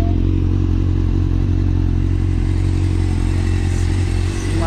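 A motorcycle engine runs close by with a steady, loud low-pitched drone and rumble, holding an even idle-like tone throughout with no speech.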